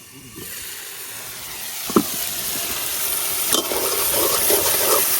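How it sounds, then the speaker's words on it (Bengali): Spice paste sizzles and hisses in a pan for a fish curry, a steady frying crackle growing louder, punctuated by a few sharp scrapes and knocks of stirring. "এখন ডাইকা মশলাটার একটু কষাই নিলাম"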